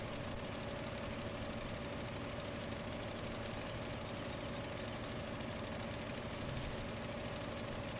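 Tractor engines in Farming Simulator 15 drone continuously with a rhythmic knocking thrum, steady and moderately quiet throughout, with no voices.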